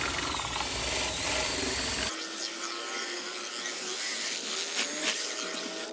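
A drill spins a wooden arrow shaft against a rasp file, giving a continuous whirring, scraping grind that shifts abruptly in tone partway through and carries on steadily, up close.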